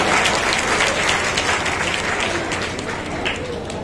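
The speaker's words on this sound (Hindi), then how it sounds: "तालियों से स्वागत हो जी मंत्री जी का" A crowd at a political event claps steadily and loudly throughout, welcoming a minister, a dense continuous wash of applause with faint voices underneath.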